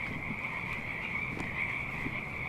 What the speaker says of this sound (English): Oh yeah, those are totally frogs. This is Frogtown.